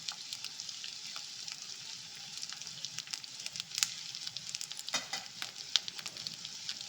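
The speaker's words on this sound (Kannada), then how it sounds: "ಇದು 1-2 ನಿಮಿಷ ಫ್ರೈ ಮಾಡ್ಕೊಳ್ಳೋಣ. ಇದರ ಜೊತೆಗೆ ಮೆಣಸುಕಾಳು ಕೂಡ ಹಾಕ್ಕೊಳ್ತಾ ಇದ್ದೀನಿ." Spices and peppercorns fry in a pan for chicken saaru, a soft, steady sizzle with scattered tiny pops and crackles, fairly quiet and close, with no talking over it.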